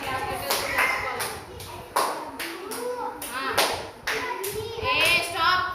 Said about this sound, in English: Hey, stop clapping.